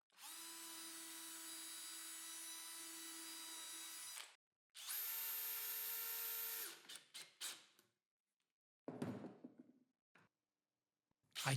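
A power drill bores holes into a wooden mobile workbench frame in two long whining bursts, followed by short trigger spurts and scraping handling noises, with silence between.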